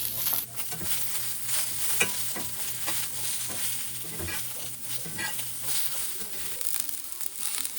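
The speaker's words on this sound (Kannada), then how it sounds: "ಈಗ ನೋಡ್ಬೋದು ಇದೆಲ್ಲ ಮಸಾಲೆಗಳು ಒಂದು 3-4 ನಿಮಿಷದಿಂದ ಫ್ರೈ ಆಗ್ತಾ ಇದೆ" Onion, curry leaves and spices frying in a pan for Mangalorean clam sukka, a soft continuous sizzle with crackles and scraping stirs, a low steady hum underneath.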